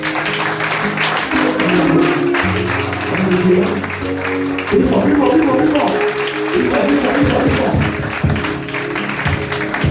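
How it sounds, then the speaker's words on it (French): Applause for the president at a church service: a dense patter of clapping runs throughout, mixed with music and voices, with a short spoken phrase heard briefly. "les applaudissements pour mon président"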